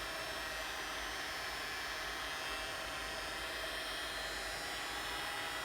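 Heat gun on its low setting warming epoxy resin in a resin turtle ocean-scape piece, a steady broadband blowing hiss that holds constant and fairly close throughout, with no speech.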